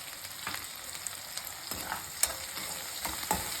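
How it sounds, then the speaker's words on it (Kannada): Onion and green chilies fry in a pan for puffed rice lemon rice, a constant hiss of sizzling broken by several sharp scrapes and taps of a spoon stirring against the metal. "ಇದು ಸ್ವಲ್ಪ ಫ್ರೈ ಆಗಲಿ."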